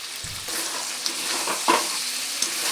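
Chicken pieces sizzle steadily in a pan after soy sauce goes in for a spiced chicken kosha, with a few scraping stirs and sharp pops breaking through the continuous frying hiss.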